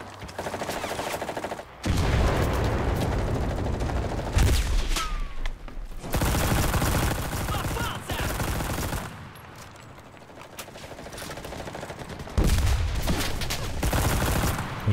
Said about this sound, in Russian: А, это этот там поставил пулемет.